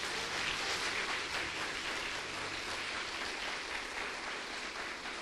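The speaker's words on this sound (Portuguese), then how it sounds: "Você pode aplaudir o Senhor Jesus?" A church congregation applauding together, a dense, even wash of clapping from a large crowd that holds steady throughout without speech over it.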